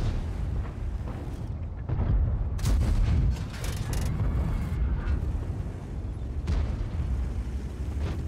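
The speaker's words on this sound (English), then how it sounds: "Just gonna fire once more and then get out." Tank cannon fire and battle explosions in World of Tanks, with heavy booming blasts and crackling bursts clustered around the middle over a dense rumbling background.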